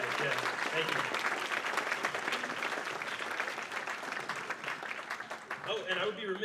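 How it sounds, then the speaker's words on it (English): Sustained applause from a fashion show audience for the featured artists, loud and dense clapping with cheers and voices woven through, continuing steadily to the end. "give a round of applause to the artists that are featured here tonight"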